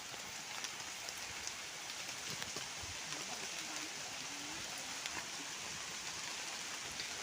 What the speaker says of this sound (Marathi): पाऊस पण आलाय